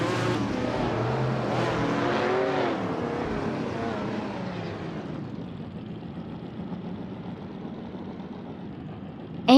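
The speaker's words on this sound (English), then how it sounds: "Amy's car is a 1977 Jaguar XJS." Steady engine roar of a 1977 Jaguar XJS race car in a racing video game, loud and droning before easing into a lower, quieter hum partway through, with a brief sharp sound right at the end.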